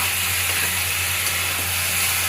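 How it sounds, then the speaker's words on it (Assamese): Green chillies and spices frying in a pan, a steady close hiss and sizzle with a low constant hum underneath, continuous and even throughout with no voices. "আৰু এতিয়া ধুনীয়াকৈ ভাজি ল'ম।"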